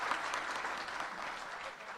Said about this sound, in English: Applause for Her Excellency.